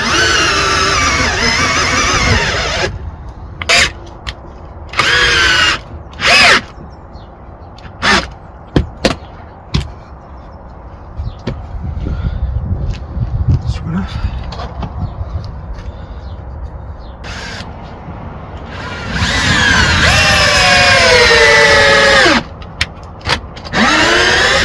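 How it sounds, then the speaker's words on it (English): A power drill drives a screw into the floor of a campervan conversion, with several short bursts of whirring separated by pauses, close and loud, with a longer drilling run near the end. "First I'll screw it into the ground."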